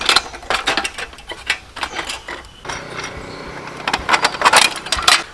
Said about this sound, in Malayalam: ഈ സ്ക്രൂ നമ്മൾ അഴിച്ചാണ് എടുക്കുന്നത്.